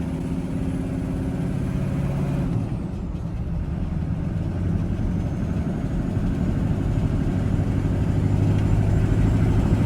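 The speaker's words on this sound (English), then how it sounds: "I don't know what that noise is, but I definitely got to get this truck checked out ASAP." Diesel box truck engine running with a steady low rumble and an odd tonal whine, heard close and continuous throughout, with no talk.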